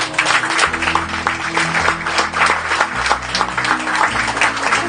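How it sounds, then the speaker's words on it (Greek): An audience at a student theatre performance breaks into sustained applause, a dense, loud wash of many hands clapping at once that continues unbroken throughout. "Εγώ θα χειροκροτήσω αυτούς τους ανθρώπους."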